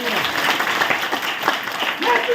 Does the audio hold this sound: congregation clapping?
yes